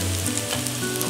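Garlic frying in a skillet gives off a steady, dense sizzle, close and continuous through a brief moment with no voices.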